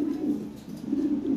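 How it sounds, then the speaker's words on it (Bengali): Lahori pigeons coo in a low, warbling, continuous murmur close by, the soft throaty rolls swelling and dipping over a quiet background. "দেখেন কি কবুতর, কত সুন্দর কবুতর"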